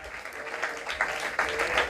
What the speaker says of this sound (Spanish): Denle un aplauso a Él y dígale gracias.